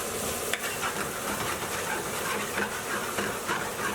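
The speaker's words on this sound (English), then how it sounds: "Just give them a good stir around and then leave them alone for the pan to do its thing." Beef dopiaza ingredients fry steadily in a pan with a continuous close sizzle, broken by scraping stirs and occasional utensil knocks, with no talking.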